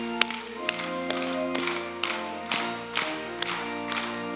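A congregation at a Korean church's Wednesday evening worship service claps in steady unison on each beat, sharp regular claps over a sustained hymn with organ and singing.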